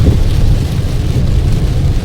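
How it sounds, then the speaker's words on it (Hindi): Heavy monsoon rain pours steadily on a road during a drive, with a continuous dense roar that may hold a distant rumble of thunder; it is loud and unbroken throughout, and no one speaks. "इस बारिश ने विजिबिलिटी कम कर दी है"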